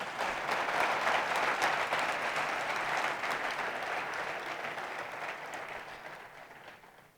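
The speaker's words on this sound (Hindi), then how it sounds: "तालियां ऐसी बजाया करो कि तालियां कहीं जाएं।" Audience at a religious lecture gives a long, even round of applause, a dense crowd clapping at moderate distance that slowly thins and fades out.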